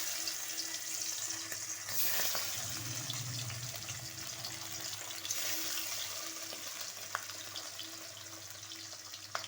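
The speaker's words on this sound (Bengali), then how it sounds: "এদিকে তেল গরম হয়ে গেছে, এবার আমি একে একে মাছগুলো ভেজে নেব।" Bata fish fry in hot oil in a home kitchen, giving a steady, fairly quiet broadband sizzle and hiss that runs unbroken throughout, with no voices.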